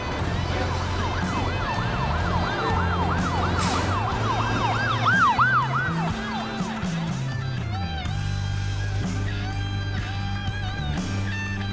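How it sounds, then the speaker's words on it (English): Emergency vehicle sirens wail through a noisy city street, several overlapping wailing and yelping tones rising and falling continuously over a dense, loud bed of traffic rumble, with a low droning engine throughout. "Sirens. Howlers. It's so fucking noisy!"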